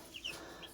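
Brahma chickens and a rooster on a poultry farm give two or three short, faint clucks over a soft continuous background.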